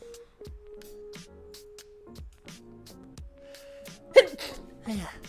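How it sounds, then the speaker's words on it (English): A single abrupt sneeze bursts out loudly near the end of a stretch of quiet, hesitant vocal sounds from one person close to the microphone. "That was an awkward sneeze."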